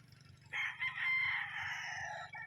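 A single long crow from an imported gamefowl rooster on a breeding farm, loud and fairly close, lasting about two seconds, with faint clucking and farm background underneath.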